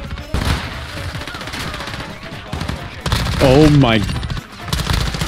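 SMG fire in a multiplayer shooter on a small map, rapid automatic bursts snapping in quick succession, with a player talking and exclaiming over the gunfire.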